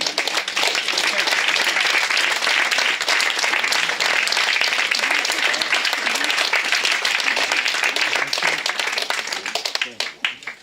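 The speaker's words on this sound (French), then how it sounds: "Je vous invite vraiment en conscience à vous applaudir vous-même." A conference audience applauds themselves, dense sustained clapping from a large crowd filling the room for about ten seconds before tapering off at the end.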